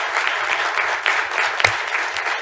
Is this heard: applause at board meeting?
yes